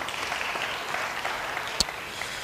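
Congregation claps during an Indonesian church sermon, a steady, dense wash of applause lasting the whole moment, with one sharper, louder clap near the end.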